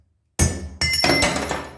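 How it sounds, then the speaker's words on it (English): Two sharp metallic hammer blows strike a guide driver, seating exhaust valve guide parts into a Subaru SOHC EJ25 cylinder head, each ringing briefly with a clinking decay, close and loud, with no talk. "And then we'll drive these things in using our guide driver and hammer."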